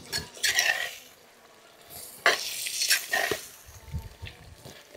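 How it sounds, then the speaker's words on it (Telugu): Chicken curry with chukka kura greens being stirred after chili powder goes in, several close, bursty scrapes and clanks of a spoon against the pan over a soft sizzle, with no voices. "ఇప్పుడు ఒకసారి తిప్పుకుందాం"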